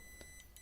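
Uni-T UT61E multimeter continuity buzzer giving short, broken beeps as the probe contact flickers, a few separate chirps within a fraction of a second over a steady electronic whine.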